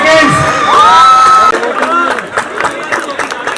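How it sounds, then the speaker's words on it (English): Audience cheering and clapping at the Spandan 2023 award ceremony at Central University of Haryana, a loud, dense crowd roar with whoops and shouts, fading slightly after the first second and a half. "Clapping for 10 seconds."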